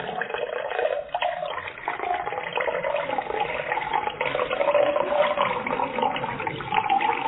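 Liquid pours steadily into a tall glass, a continuous splashing, gurgling fill that stays fairly loud and unbroken throughout with no talking over it.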